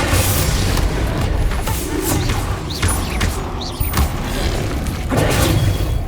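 Confringo fire spell explosions in the Hogwarts Legacy video game, loud booming blasts and thuds over a dense, continuous backdrop of combat noise, with several impacts landing one after another.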